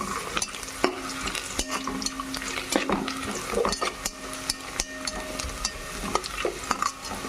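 Cashews fry in a pan for a sorrel-leaf pulao, with a constant close sizzle broken by frequent scraping stirs of a spoon against the pan.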